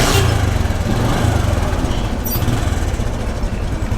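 A second-hand Bajaj CT 100B motorcycle engine idles steadily and loudly up close, a low, even putter running throughout without pause.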